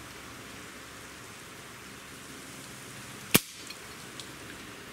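The trigger of a Gamo Hunter 220 airgun pulled with a Lyman trigger gauge: one sharp, close click stands out from a steady hiss of background noise, followed by a couple of faint ticks.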